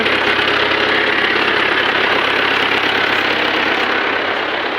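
A silage block cutter mounted on a John Deere 2130 tractor works steadily at low throttle through a corn silage clamp, giving a loud, continuous engine drone with a rough mechanical rattle throughout.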